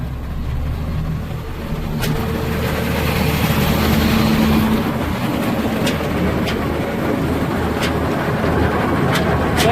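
A 1995 snowmobile engine runs close by and throttles up into a steady, rising roar with occasional clicks and knocks, no talking.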